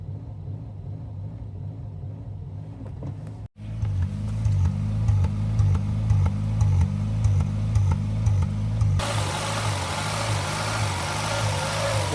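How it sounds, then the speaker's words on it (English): A Toyota Sera engine idles higher than normal with a steady, throbbing mid-pitched rumble, heard close and alone. There is a brief dropout near the start, and a brighter hiss joins the idle toward the end. "So it idles higher than it should too."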